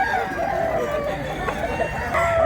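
A yellow-legged rooster among gamefowl brought by sellers clucks and crows in short bursts nearby, with faint background murmur.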